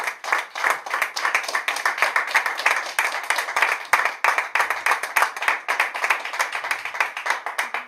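A church congregation gives a strong round of applause during a sermon, loud, close rhythmic clapping sustained throughout with distinct individual hand claps.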